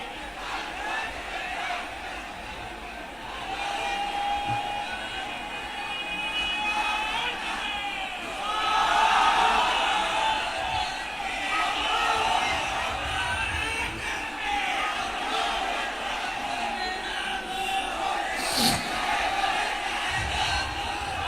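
A crowd at an Islamic religious gathering shouts takbir in loud, sustained unison responses, a dense roar of many voices that swells and holds over a steady background.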